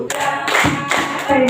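Audience of men and women clapping hands at an indoor school gathering, a steady burst of close, bright claps lasting throughout with brief swells in intensity.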